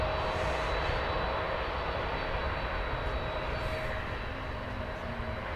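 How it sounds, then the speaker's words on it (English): A Boeing Dreamliner jet takes off from DFW Airport, its engines a steady, loud broadband roar with a faint high whine, continuous throughout and heard from a distance across the airfield. "follow that Dreamliner"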